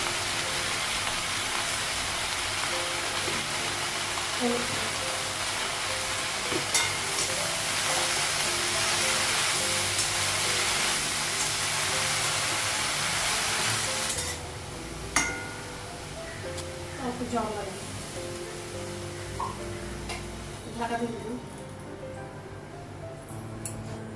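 Shaak greens fry in a pan over a gas flame, giving a steady, loud sizzling hiss that suddenly cuts off partway through, followed by scattered clinks and taps of utensils and cookware.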